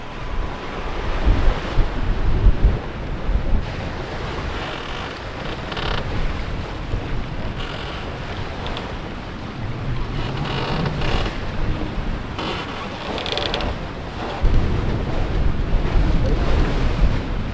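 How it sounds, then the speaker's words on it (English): Wind and waves rush past a boat at sea on a rough night, a dense, constant roar with surges of louder wash and occasional creaks, and no voices. "the waves are picking up. I think the wind"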